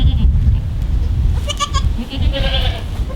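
Goats bleat in a barn, a few short, wavering calls rising over a loud, rumbling low background, close by.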